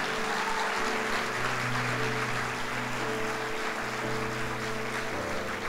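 A church congregation applauds at a Sunday service, a continuous dense wash of clapping under a sustained keyboard chord, steady and moderately loud.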